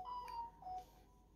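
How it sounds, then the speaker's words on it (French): A husband's mobile phone rings faintly in a quiet room, two short bursts of thin electronic tone with a brief gap between them. "C'est le téléphone de mon mari,"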